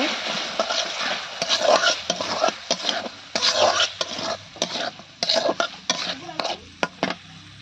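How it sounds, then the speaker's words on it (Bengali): Dal being stir-fried with spices in a pot, a spoon scraping and clattering against the metal in irregular close strokes over a steady low sizzle, with no talking. "তো এটাকে ভালোভাবে একটু কষিয়ে নেব।"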